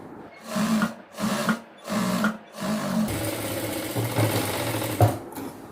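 A sewing machine stitches fabric in four short loud bursts, then runs in one longer continuous stretch with a mechanical rattle, close by and with no talk.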